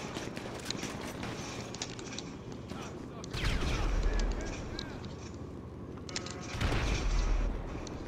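Minigun fire from a Juggernaut in GTA Online, heard as two loud sustained bursts of rapid booming shots around the middle and end, with game noise and honking-like sounds between.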